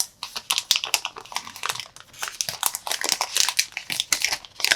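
A Redmi K40 Game Enhanced Edition smartphone is unwrapped from its packaging, giving close, loud crinkling and crackling of plastic film in irregular bursts, with no one speaking.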